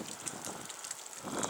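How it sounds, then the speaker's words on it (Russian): Strong southern wind of a storm, about 15 m/s, roaring steadily outdoors as a broad continuous rush that swells near the end, with no talk. "Борьба с ветром, ребята."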